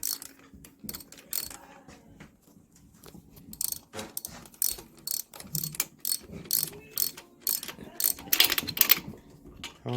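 A hand ratchet clicks in quick irregular bursts while bolts are snugged side to side during piston installation on a Honda H22 turbo engine, close and crisp, with soft talk in the background.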